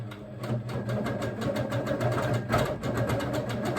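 A quilting machine stitches lines across ice-dyed fabric, a steady rapid mechanical hum with fast needle pulses, close and continuous throughout.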